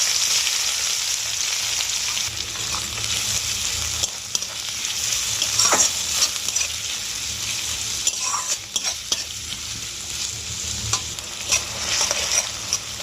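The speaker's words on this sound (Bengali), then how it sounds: "ওই তেলের মধ্যে আমি একটা তেজপাতা দিয়ে দেবো পেঁয়াজ কুচিটা দিয়ে দেবো" Chopped onion and a bay leaf fry in oil with a constant close sizzle, punctuated by frequent scrapes and taps of a spatula stirring in the pan, with no voices.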